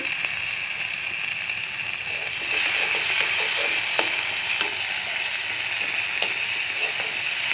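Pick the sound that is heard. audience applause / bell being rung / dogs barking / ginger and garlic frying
ginger and garlic frying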